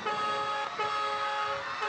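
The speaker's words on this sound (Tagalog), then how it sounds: "Busina." A car horn honks close and loud in a street in Santo Tomas, Pasig City, a steady sustained toot lasting about two seconds with a short dip partway through, with no talking over it.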